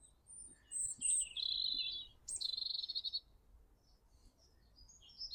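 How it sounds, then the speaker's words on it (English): Birdsong outdoors on a quiet winter walk in England, with a robin nearby: clear high chirps and warbled phrases in short bursts, including a rapid trill, against a faint low background rumble. "You can hear all the birds."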